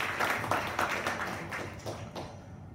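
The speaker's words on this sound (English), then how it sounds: "Let us give a thunder of applause to Mr. Mohammed Asir for the fantastic and fabulous speech he's delivered." Audience applause for a speaker at a Toastmasters International speech contest, a steady wash of many hands clapping at moderate volume for a few seconds, slowly thinning toward the end.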